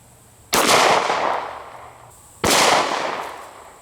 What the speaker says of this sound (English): We're going to be using a Glock 19 and we're going to be loaded up with some 9mm